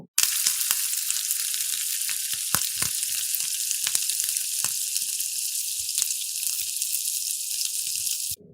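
Pumpkin greens labra cooking in a pan, giving a steady close hiss of sizzling with scattered clicks and scrapes of stirring throughout, with no talk.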